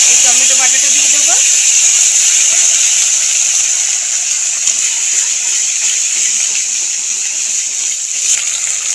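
Boiled onion paste hits hot oil and sets off a loud, steady, hissing sizzle that fills the whole stretch without pause. A voice speaks briefly at the start, and the sizzle fades slightly over time.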